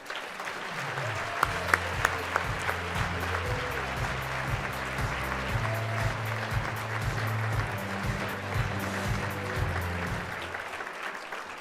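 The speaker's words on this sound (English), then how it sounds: "Let's give a nice round of applause to our governor, Gretchen Whitmer." A gala crowd at a Michigan autism event gives sustained, steady applause for the state governor. The clapping is dense and continuous, with a few sharper claps near the start, and a background music tone plays underneath.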